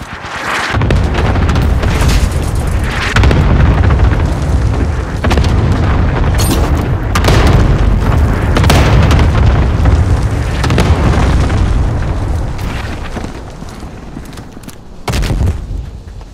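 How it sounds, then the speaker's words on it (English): Rapid chain of heavy booming explosions from a cluster airstrike in Call of Duty: Warzone, loud and dense for most of the stretch, easing slightly near the end before one last sharp blast. "Position marked. Airstrike. Kill them all. Got your request. Cluster strike is active."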